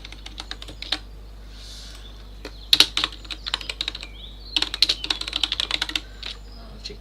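Someone types on a computer keyboard at close range, with quick irregular bursts of clicking keystrokes separated by short pauses over a faint steady hum.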